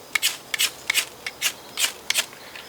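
A knife spine scrapes the black coating off a ferro rod in about nine short, sharp rasping strokes at an uneven rhythm, close and fairly loud, with no talking.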